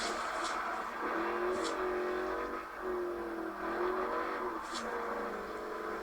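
A car drifting in a racing game, its engine droning and revving at a moderate level in fluctuating tones, with occasional brief screeching bursts over ongoing background chatter.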